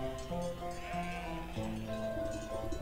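Sheep bleating in the video game Wytchwood, a sustained wavering bleat running throughout, layered over steady game music.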